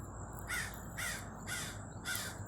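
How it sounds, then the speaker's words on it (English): A mating pair of birds calling near a low nest by Lady Slipper Lake: four harsh, crow-like caws at an even half-second rhythm, fairly faint and distant over a quiet outdoor background. "You can hear all that calling going on up there."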